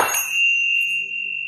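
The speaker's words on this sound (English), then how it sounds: "I also found these Tibetan bells" A bright metallic Tibetan bell rings out once with a clear, sustained high tone that lingers and slowly fades, alone.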